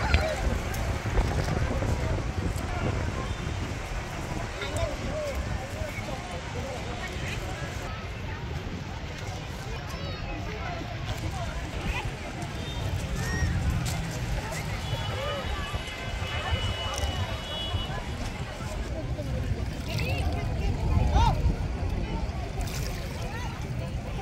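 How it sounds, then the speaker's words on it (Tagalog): Steady gusty wind buffets the microphone at Dolomite Beach on Manila Bay, a continuous low rumble with faint voices and water-like noise underneath. "Medyo mahangin, no?"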